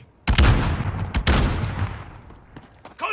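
A stun grenade detonates in Call of Duty Modern Warfare, a sharp close burst followed by a second loud crack and a decaying rumble, with scattered gunshots trailing off afterward.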